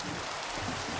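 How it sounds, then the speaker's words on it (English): Steady, soft rain falls in the Minecraft video game, an even hiss of drops with no break or variation. "It's raining."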